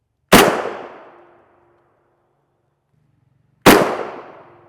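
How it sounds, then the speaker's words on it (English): Two sharp rifle impacts about three seconds apart, 7N6 steel-core rounds striking a Highcom 4SAS4 NIJ Level IV armor plate, each a loud crack with a ringing metallic decay and nothing else between them. "Good shooting, Deacon."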